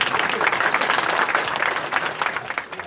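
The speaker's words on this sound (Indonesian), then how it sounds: "Tepuk tangan untuk Mas Wildo." Audience applause at a public talk: a dense, steady burst of clapping from a large crowd, loud and close, lasting about three seconds before thinning slightly at the end.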